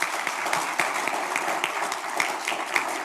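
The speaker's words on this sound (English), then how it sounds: "Let's give them all a round of applause." Steady audience applause in a room after a panel introduction, dense clapping sustained at moderate level throughout, with no voices over it.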